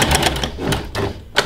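A sewing machine stitching an apron seam, rapid mechanical clatter in short bursts close up, with brief pauses between runs.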